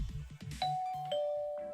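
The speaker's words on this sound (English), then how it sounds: "And at right timing, the doorbell rings" Video game doorbell in Hime-sama Love Life! giving two clear chimes, a high ding then a lower dong, each ringing out and decaying, over faint background game music.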